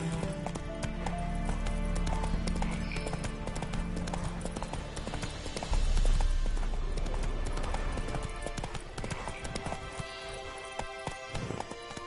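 Roach, Geralt's horse in The Witcher 3: Wild Hunt, gallops with a rapid, rhythmic clip-clop of hooves over a game score, steady and close throughout, with a brief heavier surge partway.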